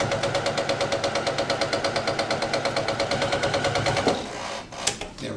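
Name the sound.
heavy duty sewing machine sewing a thick seam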